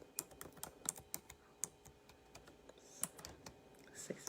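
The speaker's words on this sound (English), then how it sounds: "Let me type this in here." Quiet typing on a computer keyboard, with irregular clusters of light key clicks and a few sharper taps over faint room noise, without any talking.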